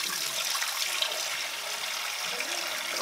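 Cloudy rinse water from soaking red beans is poured out of a pot or bowl into a sink, a steady close splashing gush that runs unbroken for a few seconds with no talk over it.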